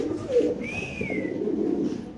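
A male Spanish pigeon coos close by, a soft, low rolling call running through the whole moment, with a faint higher whistle-like tone briefly over it and no speech.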